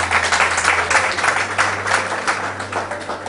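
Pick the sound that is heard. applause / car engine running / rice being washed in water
applause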